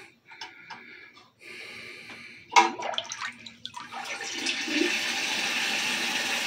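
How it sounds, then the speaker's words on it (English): A 1967 American Standard Luxor vent-away toilet flushes with paper in the bowl: a sharp gush of water swirls down, then steady rushing and hissing of the tank refilling continues to the end. "Let's do a quick flush."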